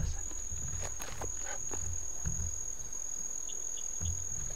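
Cricket frogs click in rapid bursts like marbles tapping together, heard at a distance over a thick insect chorus with a steady high-pitched trill throughout.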